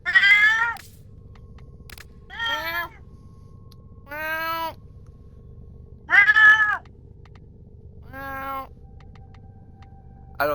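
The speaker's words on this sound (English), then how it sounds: "I could hear his cat now. Meow. Meow." A house cat meows in several separate, drawn-out calls with pauses between, loud and close over a low steady background hum.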